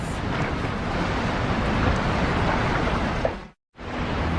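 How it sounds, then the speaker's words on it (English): Heavy surf and storm surge churning the sea, a dense, steady roar of water and wind-blown turbulence that holds loud and constant, then cuts out abruptly for a brief moment before returning. "The storm surge tears into the sea floor."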